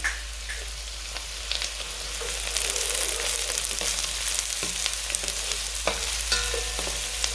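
Onions and garlic sizzle and crackle in a hot pan, with occasional scraping as they're stirred; a steady, close frying hiss throughout.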